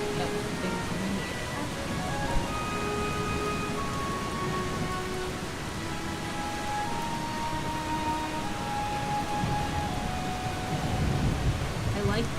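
Steady hiss of a rainstorm in the video game Eastshade, a constant even wash of falling rain with soft musical tones drifting over it.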